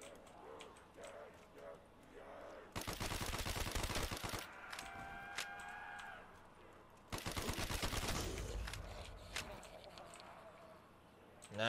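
Pistol fire in a zombie shooter arrives as two long, dense bursts of rapid shots, loud and close, separated by quieter stretches where voices talk and a few faint tones sound.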